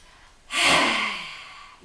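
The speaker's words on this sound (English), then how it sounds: "take a breath in" A child takes one deep, audible breath in during a calm yoga and mindfulness lesson, a single loud rushing inhale that swells then slowly fades, heard up close and alone.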